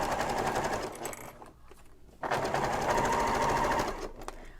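A sewing machine stitches a messenger bag in two close, loud runs of rapid mechanical whirring, pausing briefly with the needle down to pivot at a corner before carrying on.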